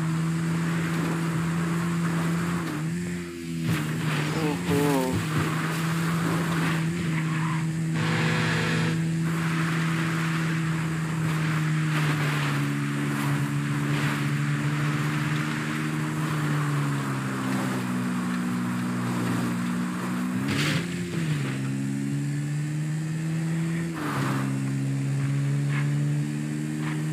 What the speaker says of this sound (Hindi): बाइक बहुत मस्त चलती है गाइस ये बाइक